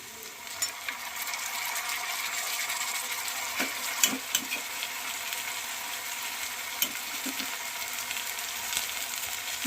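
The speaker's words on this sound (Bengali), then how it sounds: "পেঁয়াজটাকে ভালো করে ভেজে নেব" Onions fry in a pan with a steady, even sizzling hiss, interrupted by a few light clicks of stirring.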